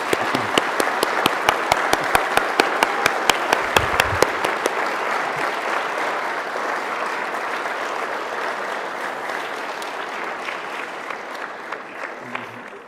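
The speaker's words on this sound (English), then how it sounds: "How about one more round of applause for today's recipients?" An audience at a British Columbia reconciliation award ceremony claps, starting with sharp close claps and settling into sustained steady applause that slowly thins out toward the end.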